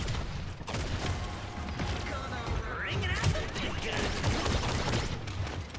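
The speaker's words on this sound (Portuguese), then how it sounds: "tô levando tiro de todo lado" Rapid bursts of Paladins gunfire crackle from several directions, dense and continuous, with a voice talking over the shooting.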